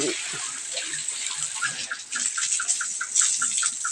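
Water gushes steadily while a pig pen is washed down and fattening pigs are bathed, a continuous hissing spray with faint scattered background sounds and no talk.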